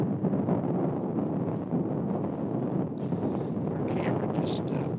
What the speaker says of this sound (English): That gust of wind right there.